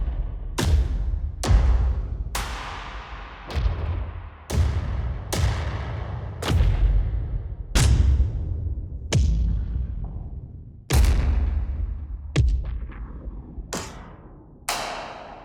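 A series of about a dozen heavy, booming cinematic percussion hits from a Kontakt sample library, each a deep impact with a long decaying tail, struck one after another at a steady pace.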